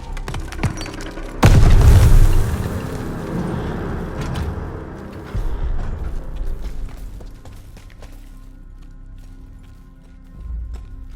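A grenade detonates in the World War II shooter Call of Duty: Vanguard: one loud, deep blast hits suddenly, then rumbles and crackles with debris that slowly fades, with quieter scattered battle noise after.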